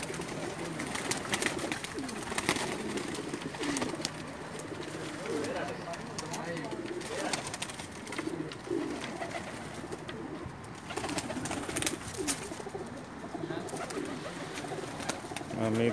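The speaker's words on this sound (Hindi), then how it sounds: "कुछ चंद कबूतर दिखा रहा हूँ।" Pakistani pigeons on a rooftop in Jeddah, Saudi Arabia coo repeatedly in soft, throaty calls from close by, with light wing and bird rustling throughout.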